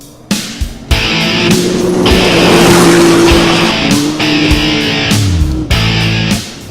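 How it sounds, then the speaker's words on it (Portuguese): Rally quad bikes and odd-looking cars race fast through the Jalapão backcountry, loud roaring engines passing close with revving, shifting pitch and tire noise, one vehicle after another. "O silêncio do Jalapão desaparece com o barulho das máquinas velozes."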